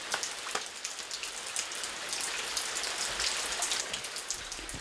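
Steady rain falls all day over a rural Korean village, a dense, even patter of drops that stays close and constant throughout with no voices.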